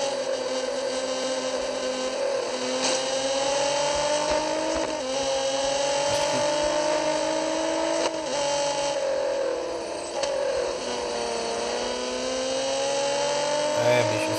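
Racing car engine in Real Racing 3 on Android, a classic car droning and revving steadily throughout with pitch shifts, loud and continuous, with faint game ambience under it.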